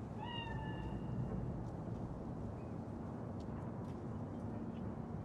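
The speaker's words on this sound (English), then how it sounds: "It is a cat spirit." A single cat meow, the cat spirit of Cyberpunk 2077, sounds in the opening second and then gives way to a steady, low hum of game ambience that runs to the end.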